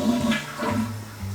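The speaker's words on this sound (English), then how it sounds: "Noah, you're flushing the toilet." A home toilet flushes, with a short, close rush of water swirling down the bowl.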